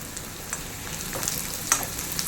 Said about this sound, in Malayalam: ഒന്ന് നല്ലവണ്ണം പൊരിഞ്ഞു വരട്ടെ